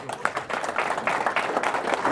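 A room of attendees at a real estate meetup in Akron claps, with quick uneven hand claps rising and falling for a couple of seconds.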